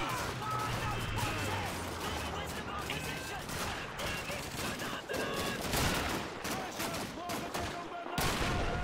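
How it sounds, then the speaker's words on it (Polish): Gunfire in the World War II shooter game Call of Duty 2: rapid bursts and repeated shots crackle through a dense battle mix. A player talks over the shooting, and there is a sharp burst near the end. "Go zabiję jednym strzałem, patrzcie"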